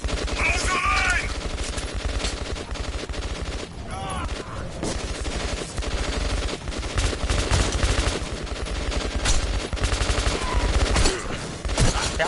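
Dense automatic and rapid gunfire fills a firefight in the video game Metro 2033, loud and continuous with overlapping bursts, while shouted voices break through the battle noise.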